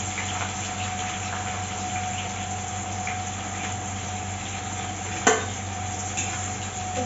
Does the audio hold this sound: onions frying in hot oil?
yes